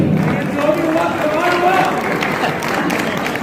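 Audience applause at a Chhattisgarh film award ceremony, a short burst of loud clapping and crowd noise with a voice faintly mixed in.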